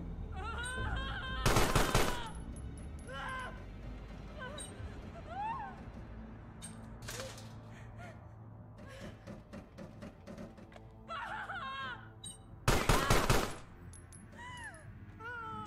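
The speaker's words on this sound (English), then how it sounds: "Shooting people who were just trying to use the bathroom." Gunfire in the video game Carrion, two loud bursts of shooting at people, separated by a stretch of creature squeals, growls and game noise.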